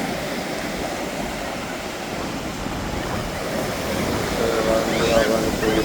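Sea waves break and wash along the beach at Tiruchendur temple where devotees bathe, a steady surf roar with wind gusts and a faint murmur of crowd voices.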